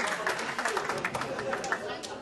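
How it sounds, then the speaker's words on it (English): Quiet applause from an audience at a charity auction for an Islamic school, with dense, fairly even clapping that continues through the short clip. "Big round of applause, please."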